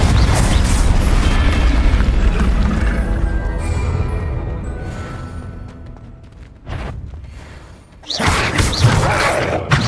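In Hogwarts Legacy, a Confringo fire spell lands with a heavy booming explosion that rumbles and decays over several seconds before a second burst erupts near the end, loud and close.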